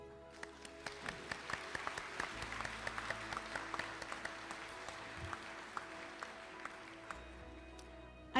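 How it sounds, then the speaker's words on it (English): Graduation ceremony crowd at Calhoun Community College clapping in a large hall, a soft, distant, continuous wash of applause with scattered sharper claps, quiet throughout. "give a round of applause for the people here to support you"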